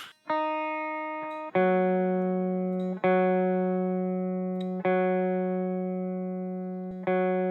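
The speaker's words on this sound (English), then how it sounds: "Yes, there is an inbuilt tuner." Sustained guitar notes ring through a Loudstakk TRVE RIG amp sim with its built-in tuner engaged, each note freshly plucked about every one and a half seconds and decaying slowly, with no one talking.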